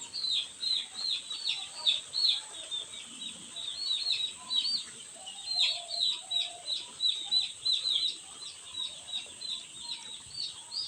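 Chickens in a poultry farm shed warmed by heat lamps cluck and cheep continuously, many birds overlapping in a steady, moderately close chorus with no talk.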